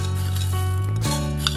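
Whole spices such as coriander seeds dry roast in a pan on a stove over a medium flame, giving a steady close hiss with faint rattling and clinking.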